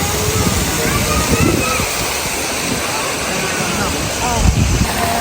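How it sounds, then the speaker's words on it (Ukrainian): A tipping water park barrel dumps a heavy rush of tumbling water that pours and splashes continuously, loud and close, with a bigger splash near the end and people talking faintly underneath, at Siam Park, Tenerife. "Ця бочка переворачується водичкою."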